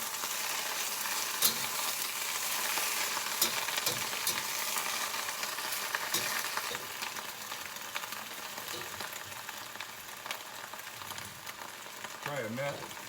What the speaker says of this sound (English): Ooh, nice and sizzling.